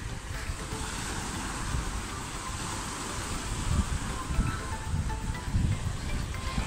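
Sea waves wash steadily onto a long beach by a pier at Kuşadası, a continuous surf roar mixed with wind noise on the microphone and gentle swells building toward the end, with no speech.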